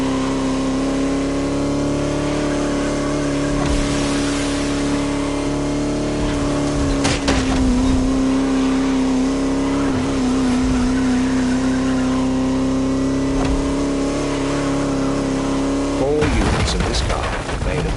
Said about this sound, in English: What a pleasure it was to take this venerable machine through the picturesque countryside